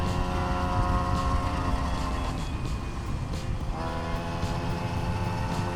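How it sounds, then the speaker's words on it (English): A 50cc scooter engine with a CVT drones steadily at high revs with a constant whine and rumble while riding, with wind buffeting throughout. "I feel like I'm just riding a normal 50cc scooter."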